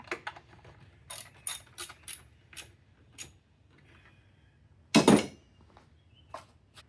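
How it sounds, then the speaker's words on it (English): Ratchet turning a bolt on a Toyota Corolla throttle position sensor, rapid bursts of close, crisp clicking separated by pauses, with a louder metallic clatter near the end. "Turn the ratchet up there."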